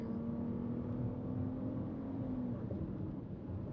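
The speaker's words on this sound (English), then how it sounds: "I'm going to go ahead and put it into sport mode, and we'll see how fast this thing is" A 2023 Nissan Rogue SUV accelerating hard in sport mode: a steady, dense engine and road roar with a rising tone that fades out partway through, heard continuously without speech.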